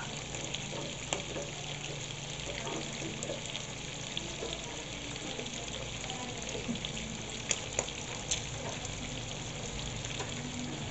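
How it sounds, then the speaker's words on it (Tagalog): Pork adobo in the Bicol white style (adobong puti) frying in its own rendered fat, giving a steady, close, even sizzle with a few small pops throughout and no voices. "palalabasin lang natin yung mantika hanggang sa mag-golden brown siya"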